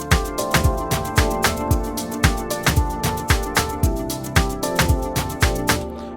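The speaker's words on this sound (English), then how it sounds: "this is just the piano from Hypersonic" Atmos piano preset from the Hypersonic plugin plays a steady repeating pattern of bright chords, each struck note decaying quickly, in an even rhythm of about three hits per second, clean and alone.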